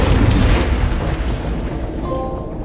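A large in-game explosion at the Hotel Slock in the video game 007 First Light, a loud sustained booming roar with deep rumbling that slowly fades, heard alone without speech.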